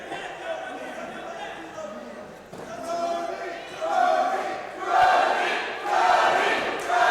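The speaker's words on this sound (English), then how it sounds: "Crowd getting behind Brody Fulks" Crowd at a fight swelling into loud cheers and shouts in waves, with commentary-like talk underneath.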